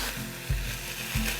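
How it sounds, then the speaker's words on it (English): Soft sizzling hiss of chicken quarters frying in a hot pan, with a couple of low clunks or scrapes breaking through. "Now let's get our chicken in there. Sizzle, hear that?"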